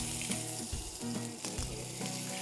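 Scallops cooking in a pan of butter and oil as they are turned, a continuous near sizzle broken by a few soft knocks and scrapes.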